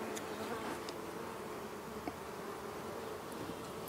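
Honeybees buzzing around an open hive during queen grafting work. A faint, steady hum carries throughout, with a few brief closer buzzes from individual bees passing by.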